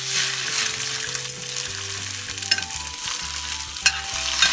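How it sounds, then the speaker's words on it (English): Beef steak frying in cooking oil in a pan for burritos, a loud continuous sizzle with stirring and scraping sounds under a background of sustained musical tones. "We add our steak and we are going to try to brown it."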